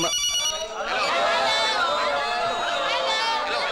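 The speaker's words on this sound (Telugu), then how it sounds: "Hello hello hello, it's my phone. నా ఫోన్." A mobile phone ringtone sounds through a Telugu film scene, a steady tonal ring that repeats over nearly four seconds while voices talk over it.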